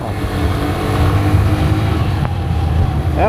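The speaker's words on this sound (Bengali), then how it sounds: "FI ইঞ্জিনের সাউন্ডটাই অন্যরকম, যেটা কার্বোরেটরে পাওয়া যায় না আসলে" Yamaha FZ-S V3 motorcycle with a fuel-injected engine being ridden: a smooth, steady engine drone that rises slightly as it pulls, fairly close, with no speech.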